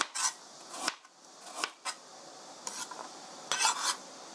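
A kitchen knife slices a carrot into thin pieces on a cutting board, producing a handful of crisp, irregular chopping knocks up close with quiet gaps between them.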